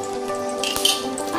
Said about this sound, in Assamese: এতিয়া কেৰাহীত তেল গৰম হৈছে। এতিয়া মই তাতে এটা জলকীয়া পেলাই দিম